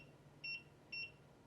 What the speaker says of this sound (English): there's a beep that goes with it so you can tell how much you're doing